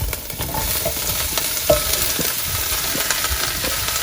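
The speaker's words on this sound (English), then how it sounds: "But now I'm gonna add the veggies to the sesame oil." Chopped garlic, onion, peppers, zucchini, squash and bok choy fry in hot sesame oil for a chicken stir fry, a steady close sizzle with stirring and scraping clatter throughout and no voices.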